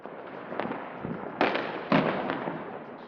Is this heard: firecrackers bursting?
yes